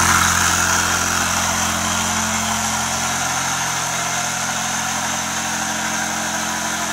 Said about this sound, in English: So this pump, I say, will cut out when it gets to the right pressure.